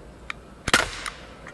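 A Daisy Powerline 5501 CO2 BB pistol fires a single sharp, close pop with a brief hiss-like tail, preceded and followed by faint small clicks.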